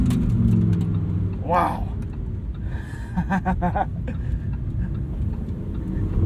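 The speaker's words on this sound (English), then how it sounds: "Every time you dip into that throttle, it's one of the most evocative things you can experience on 4 wheels." A 2023 Lamborghini Huracan Tecnica's engine revs hard as the throttle is pressed, a loud, close, rising roar in the cabin that is steady and sustained, with quick rasping shifts from the seven-speed dual clutch and a brief exclaimed word over it.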